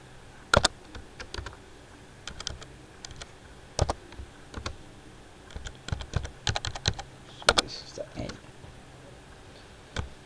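Bursts of keyboard typing, clicky keystrokes coming in quick irregular clusters with short pauses between, close and fairly clear.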